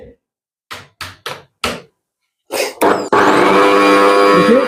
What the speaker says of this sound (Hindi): इस मिक्सर को भी चला करके दिखा देते हैं।